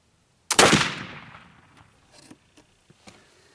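A single loud, close black powder gunshot made with homemade hickory-charcoal powder: a sharp report that rings out in a long decaying tail, followed by a few faint clicks and handling noises.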